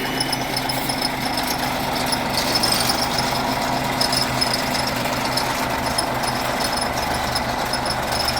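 A MAN 260-horsepower diesel engine fitted in a T-150 tractor idles steadily with a low, constant rumble and faint metallic rattles, continuous throughout and fairly close.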